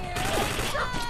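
Rapid gunfire bursts in the post-apocalyptic pub crawler video game Wasted, a dense fusillade running steadily through the moment with game noise underneath.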